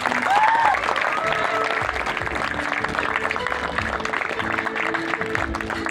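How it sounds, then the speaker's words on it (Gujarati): Audience applause for a film's producer at a cinema event, a steady wash of clapping hands from a crowd with a brief cheer near the start, sustained throughout with faint voices mixed in. "એના માટે જોરદાર તાળી"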